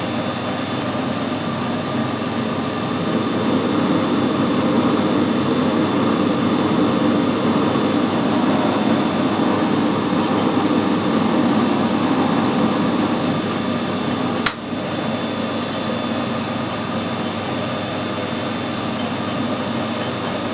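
An aluminium vintage motorcycle oil filter is screw-cut on a lathe, with a steady, loud machine whir and hum running throughout and one brief sharp click near the end, with no voices.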